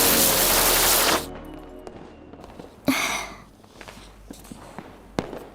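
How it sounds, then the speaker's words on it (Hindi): Firecrackers go off at a Diwali celebration in a film scene: a dense loud crackling burst, then a few separate sharp bangs and pops farther off. "हमारे साथ चल के पटाखे चलाओ ना"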